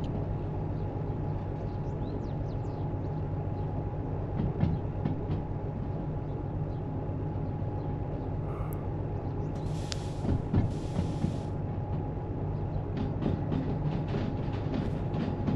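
Locomotives hauling a freight train in the rail simulator Derail Valley, with steady rolling rumble and low hum throughout, rhythmic wheel clicks, and a brief high-pitched squeal or hiss near the end.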